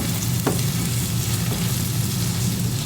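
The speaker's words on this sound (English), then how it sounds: "So I put my ground beef in with my sauteed onions." Ground beef sizzles with sautéed onions in a hot pan, a loud, steady crackling fry with a faint clink or stir near the start, close up and free of talk.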